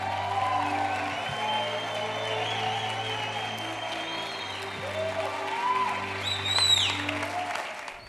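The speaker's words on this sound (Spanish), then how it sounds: "Recibamos con un fuerte aplauso al doctor Yatensi Bonilla" Audience applause greets Doctor Yatensi Bonilla at a gathering honouring a New Testament translation, a steady wash of clapping over sustained low tones that swells slightly near the end.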